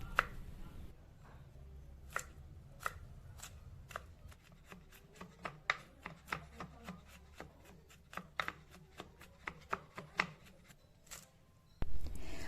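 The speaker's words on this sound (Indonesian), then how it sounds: "Untuk bumbunya aku menggunakan 2 siung bawang putih yang aku geprek, kemudian aku potong tipis-tipis atau aku chop" Two crushed garlic cloves chopped thinly with a knife on a board, a quick run of crisp close taps, around twenty sharp chops in an uneven rhythm.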